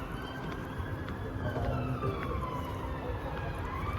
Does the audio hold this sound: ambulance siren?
yes